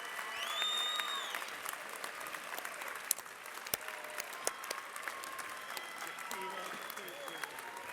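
Steady applause from a crowd at a strawweight championship fight fills an arena, with scattered claps and cheers continuing throughout while an announcer speaks over it.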